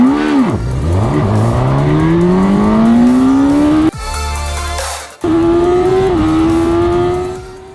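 A Suzuki Katana motorcycle engine revs hard and climbs through quick-shifter upshifts and downshifts while the throttle stays held, loud and close, with a short dip between gears.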